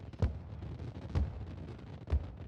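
Fireworks explode in the survival game Rust: three deep booming bursts about a second apart, each rolling over a steady low rumble, loud with no talking.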